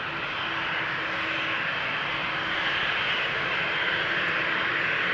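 A jet airliner departs runway 36L at Amsterdam Schiphol Airport, and its engines make a loud, steady, broad roar that fills the whole stretch with no talking.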